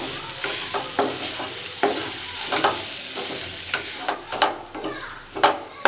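Fried mushrooms are stirred into gravy in a pan with a utensil, giving repeated scraping strokes in an irregular rhythm over a soft, steady sizzle, close and moderately quiet.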